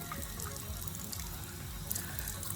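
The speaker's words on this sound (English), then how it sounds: "Get my brush wet with some warm water, not hot, swirling it around." A faucet runs warm water over a makeup brush at a sink, a soft, continuous trickle and splash with faint droplet ticks, quiet and close.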